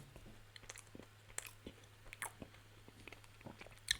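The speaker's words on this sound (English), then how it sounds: "sorry if you could hear me chewing." Close, quiet chewing of Reese's peanut butter candy, soft irregular crunches and mouth clicks repeating through a few seconds, no talk.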